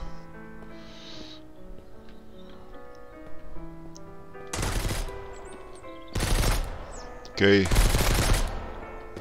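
Enemy gunfire in the survival game Mist Survival, arriving as three loud bursts of rapid shots, the last one heaviest, with a brief spoken word early on.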